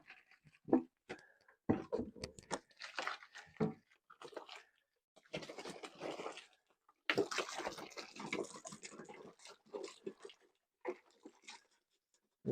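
Water poured in irregular bursts into peat moss for potting soil, a series of gurgling splashes and sloshes with short quiet gaps, fairly close and moderately loud.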